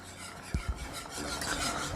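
A spoon scrapes and stirs a milk-based lasagne sauce in a cooking pot, with two soft knocks early on, then continuous close rasping strokes against the pan.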